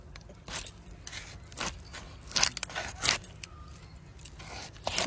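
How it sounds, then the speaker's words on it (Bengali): A knife cuts through a big river fish in rough, scraping strokes that come in irregular bursts, some louder crunching moments among them, with faint background noise. "এবার দুজনে মিলে একসঙ্গে কেটে নেবো মাছটা"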